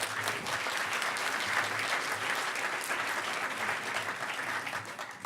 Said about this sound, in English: So everybody give a round of applause to Gus, who's going to be talking about art